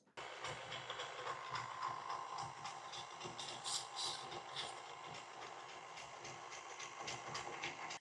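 Electric mixer whirring through pumpkin roll batter, a continuous rattling mechanical buzz that flutters slightly as the beaters move, with no voices.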